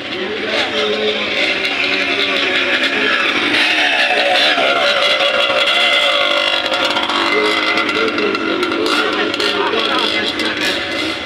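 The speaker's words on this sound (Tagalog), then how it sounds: "Yung mga motor na sasali sa motor cross contest." Motocross motorcycles rev at a crowded contest, a continuous loud buzzing engine roar that rises and falls under crowd noise and talk.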